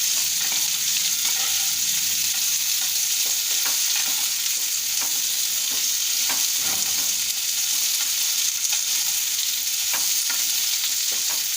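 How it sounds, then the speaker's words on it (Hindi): Boiled baby potatoes fry in a pan with a loud, continuous hissing sizzle, broken by scattered light scrapes and taps from stirring, with no talk over it. "इसको 1 मिनट तक फ्राई करिए ताकि इसके ऊपर थोड़ा कलर आ जाए।"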